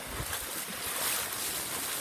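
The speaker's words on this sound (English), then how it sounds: "You can tell I'm splashing through some water and trying to navigate my way back into the indoors now." Splashing and sloshing through floodwater left by hours of torrential rain, a continuous close wash of water noise with no break.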